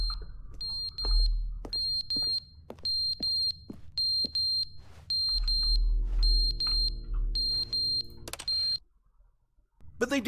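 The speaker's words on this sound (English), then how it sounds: "What's that beeping noise?" A repeating electronic alarm in The Stanley Parable video game, loud rhythmic beeps in steady pulses over a low hum, with the pattern stopping abruptly near the end.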